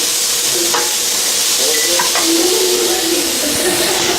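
Eggplant and vegetables saute in a pan for dirty rice, giving a steady, loud sizzle and frying hiss throughout, with occasional soft stirring scrapes and no talk.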